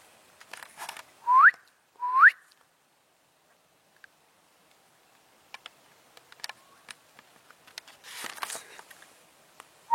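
Two short rising whistles sound close together, followed by scattered faint ticks and clicks in an otherwise quiet space.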